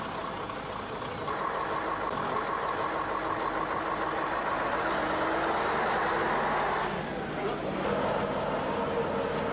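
A heavy truck engine runs steadily and pulls away after its air brakes reach pressure and the parking brake is released, a loud continuous drone with a shifting tone midway, with possible faint talk underneath.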